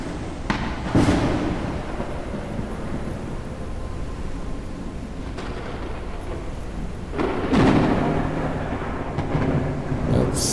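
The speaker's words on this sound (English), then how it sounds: "That thunder is loud." Loud thunder in the video game Forever Skies, with sharp cracks that roll into a long rumble, a second heavy clap building later under a steady stormy wash.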